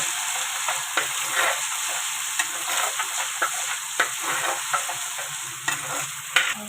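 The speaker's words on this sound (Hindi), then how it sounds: "1 चम्मच भर के हमने अदरक लहसुन का पेस्ट इसके अंदर डालना है और इसको अच्छी तरह भूनना है" Steady sizzling of ginger garlic paste frying in a hot pan, with occasional scraping and stirring clicks from a spoon, close and continuous, no voices.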